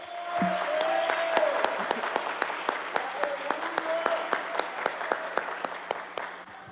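Congregation applause at a church service, a dense wash of clapping that settles into sharp, rhythmic unison claps near the end, with a voice heard briefly at the start.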